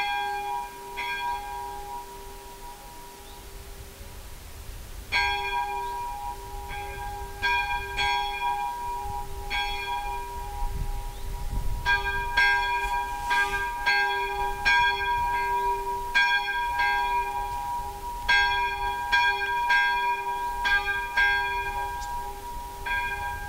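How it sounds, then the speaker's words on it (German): A single church bell tolls as a death knell at a memorial service, struck in slow repeated strokes with long ringing overtones, loud and steady with no voices over it. "in der wir jetzt die Totenglocke läuten."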